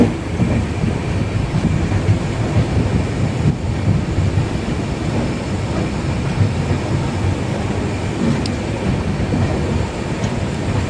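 Venad Express train running toward Vadakkanchery station, a steady loud low rumble and rattle of the carriage heard from inside, continuous throughout with no voices.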